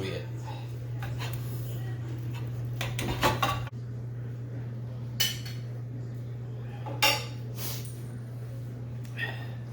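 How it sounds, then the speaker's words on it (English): Cutlery and dishes clink and scrape as a cooked pork loin is cut and plated beside a Blackstone griddle, a few sharp knocks standing out over a steady low hum. "Let's cut this pork loin up. Make us a plate."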